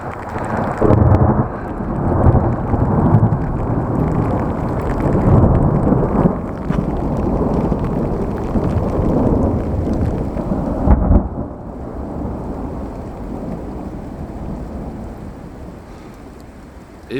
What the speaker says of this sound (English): It rained constantly for the next few miles, and it was so heavy